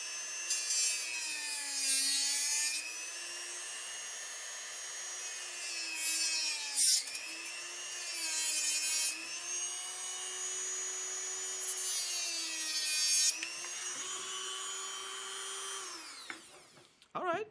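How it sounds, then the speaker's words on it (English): A Dremel rotary tool grinds steadily through a Nerf Rival barrel extension, a high whine holding close and constant with small shifts in pitch as the cut goes on, then a few clicks as it winds down. "we're going to do it with the Dremel"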